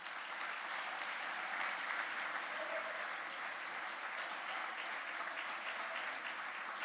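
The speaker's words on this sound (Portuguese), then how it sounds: "As palmas, louvores." Church congregation clapping together in steady, dense applause that holds evenly throughout, moderately loud and unbroken, with no voices standing out above it.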